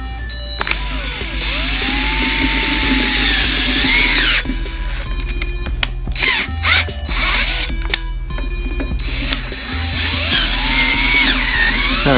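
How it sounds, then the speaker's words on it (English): Close, loud power drill whirring as it bores out holes on a Honda S2000, running in long bursts with brief stops, speed shifts and a pause in the middle before drilling resumes. "I'm going to go ahead and drill these out"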